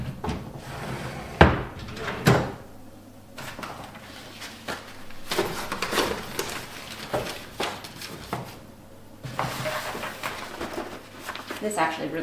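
Drawers and cupboards are opened and closed at home while things are sorted and put away, with several sharp wooden knocks and sliding thuds spread through the clip and people talking over them.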